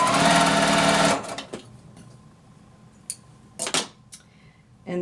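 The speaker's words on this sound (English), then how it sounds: "sew it to the center block." A sewing machine stitches a quilt block in a loud, fast, steady whir for about a second, then stops, followed by quiet fabric handling and a few soft clicks.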